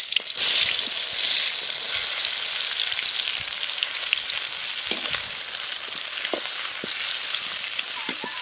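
Onion frying with green and dried chillies in mustard oil for a crab curry, a steady close hiss and crackle running throughout with occasional soft stirring clicks, no voices.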